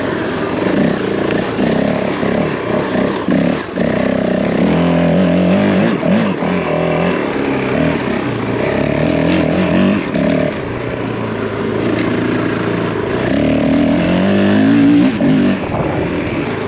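A Honda CRF450L enduro motorcycle ridden in second gear at a quarry, its engine droning loud and close with steady throttle surges and revs, no voices.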